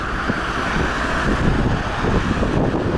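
Strong winter wind on the embankment in Alanya buffets the microphone with a dense, loud roar, steady and unbroken throughout, with a faint hint of traffic underneath.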